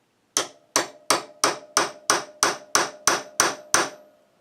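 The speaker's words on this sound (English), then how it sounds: "I'm gonna whack it" Ten sharp, evenly spaced hammer blows strike a part being fabricated for a WR250E motorcycle's left side, each a loud metallic crack with a short ringing decay, close and steady with no talking.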